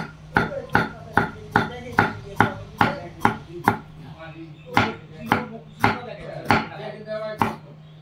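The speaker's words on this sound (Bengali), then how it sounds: "প্রথমেই আমি ক্যাপসিকামকে কেটে নিলাম।" Capsicum being cut into thick pieces with a knife on a board, a run of sharp, regular chops close up, briefly pausing midway before resuming at an even rhythm.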